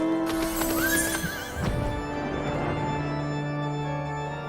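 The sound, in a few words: horse neighing in video game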